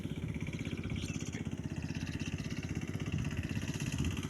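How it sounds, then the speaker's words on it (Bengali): A 20-horsepower power tiller with 20 blades ploughing a farm field, its engine chugging in a steady rapid low throb with mechanical clatter, continuous and close. "এখানে পাওয়ার টিলার দিয়ে জমি চাষ করা হচ্ছে"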